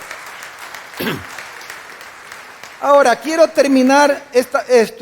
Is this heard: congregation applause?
yes